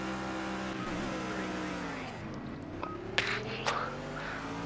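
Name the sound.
Mercedes SLS AMG GT3 race car engine in video game Project CARS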